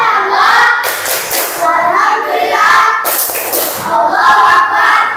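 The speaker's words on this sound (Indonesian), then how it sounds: "Tepuk semangat." Schoolchildren in a classroom do a rhythmic spirit clap, a few sharp clap bursts mixed into their loud group chanting, repeating in a short patterned cycle.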